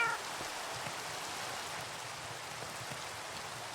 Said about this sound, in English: It is just rain.